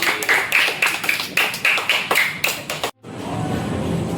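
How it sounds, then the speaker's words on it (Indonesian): A church children's and youth group gathering applauds a Bible reading contest winner. Clapping comes in rhythmic bursts and swells, cuts off abruptly near the end, and then gives way to a quieter room tone. "berikan tepuk tangan untuk Adriel Mandua Pesi"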